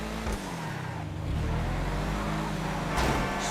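An Ubermacht Sentinel GTS, a BMW M3 style car in the video game GTA 5, drives with a steady engine drone, then a rising surge and a harsh scrubbing burst as it brakes.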